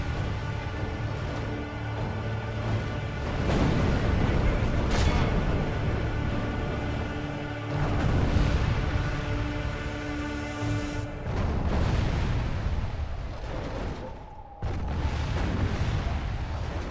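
Catapults bombarding defensive towers during a siege in Medieval II: Total War: heavy booming impacts and crashing rumbles recur every few seconds over a continuous low battlefield din, loud and close.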